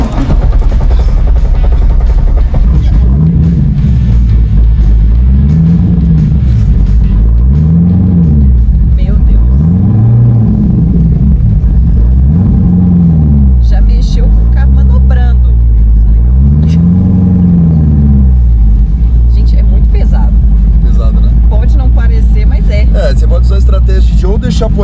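A car engine revs loudly and repeatedly in rising and falling surges, then settles into a heavy rumble, recorded up close from inside or beside the car during a drift challenge, with people talking throughout.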